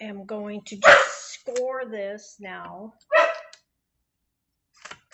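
A bull terrier puppy lets out a couple of sharp barks between stretches of a person talking while sourdough discard crackers are being made.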